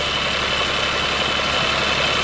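A neighbour's engine pumping water from a river to flood a field runs at a steady idle, loud and close, with a constant droning hum and no talking.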